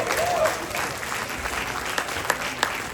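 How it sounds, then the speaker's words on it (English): Attendees at a 50-year community gratitude award ceremony applaud themselves, a steady room-filling patter of clapping with a few louder single claps near the end, while a brief voice is faintly heard early on. "I think we ought to give ourselves a big round of applause."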